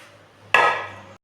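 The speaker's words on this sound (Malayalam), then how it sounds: "ഇതേപോലെ ഒന്ന് അരിഞ്ഞു കൊടുത്താൽ മതി" A knife chops through taro leaves on a cutting board in one sharp, close strike that rings briefly and fades, with no other sounds around it.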